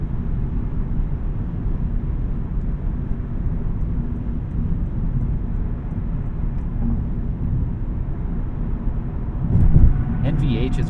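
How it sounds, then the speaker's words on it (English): Cabin of a 2024 Lexus IS500 F Sport Performance cruising on the highway: a constant low rumble of tire roar with a light wind hiss, steady throughout, with a brief louder thump near the end. "Out here on the highway, you do kind of hear some tire noise and a little bit of wind noise"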